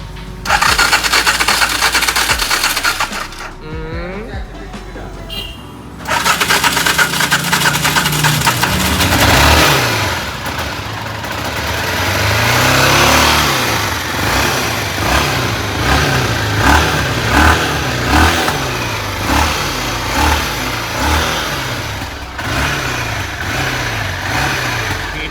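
A BMW F650 motorcycle engine cranks and catches, then settles into a steady, loud running note with rhythmic pulses and occasional revs.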